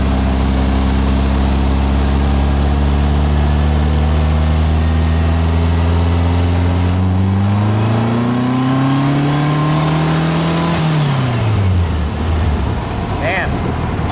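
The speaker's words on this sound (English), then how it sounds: "I'm going to put it second because I want to rev it a little bit." An air-cooled VW engine converted from 1600 to 2110 cc revs up in second gear while driving, its loud droning note climbing steadily in pitch before dropping off as the throttle closes, heard from inside the car.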